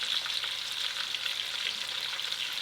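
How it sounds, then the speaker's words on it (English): Pieces of pork hock fry in a pan, giving a steady, dense crackling sizzle heard up close and alone for its whole length. "crispy and brown, and then I'll flip it to the other side"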